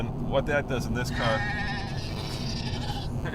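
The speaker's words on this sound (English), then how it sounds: "I have a sheep sound on my phone" A sheep-bleat ringtone goes off on a phone during a car radio show, a couple of short wavering bleats near the start, heard under and beside someone talking.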